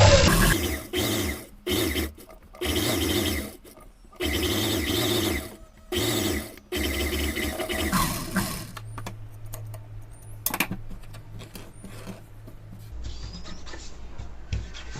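A sewing machine stitches the side seam of a blouse in repeated short bursts of fast running stitches separated by brief pauses, then gives way to quieter handling and faint mechanical clicks.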